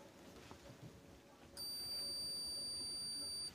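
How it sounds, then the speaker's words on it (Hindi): A multimeter set to continuity gives a steady, high electronic beep while testing a transformer winding from a banjo changer repair. The beep starts abruptly partway through and holds unbroken until the end, close and clear over faint room noise. "बीप का आवाज़ आ रहा है"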